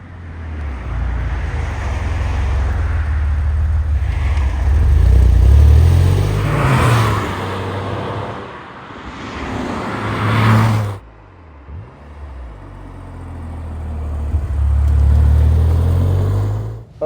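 A 1997 Porsche 911 Turbo sweeps past in a series of flybys, its engine note rising loudly as it approaches and fading away after each pass, with a quiet gap between runs.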